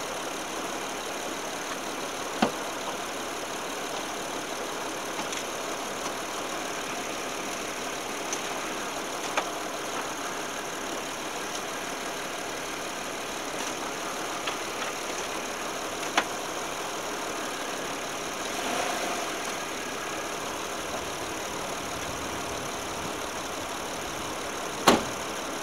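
A Saturn 3.5 AWD car engine idles in neutral with the handbrake on, a steady close mechanical hum with a few faint clicks and ticks over roughly twenty-five seconds, no talk.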